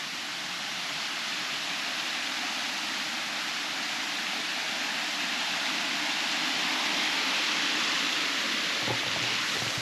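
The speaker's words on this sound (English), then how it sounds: "So you are greeted immediately by this river and this natural pool down there." A river rushes steadily into a natural pool at a tourist attraction in Samoa, a dense, even roar of flowing water heard up close and unbroken throughout, with no voices.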